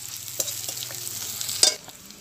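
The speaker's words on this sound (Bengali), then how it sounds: "পেঁয়াজটাকে আদা আর রসুনের সঙ্গে ভেজে নেব" Onion frying with ginger and garlic in a pan, a soft steady sizzle with a few louder stirring scrapes and clatters, close by and fairly quiet.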